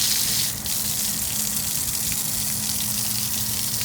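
Water runs from a tap at a water treatment plant in a steady, gushing stream, a continuous hiss and splash that stays even from start to finish.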